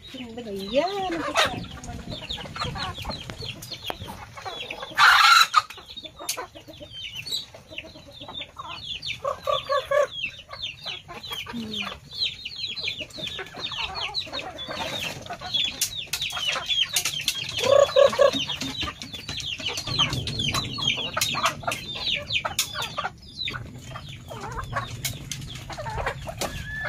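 Backyard chickens cluck continuously at close range and a rooster crows a few times amid the flock, with occasional human voices in the background.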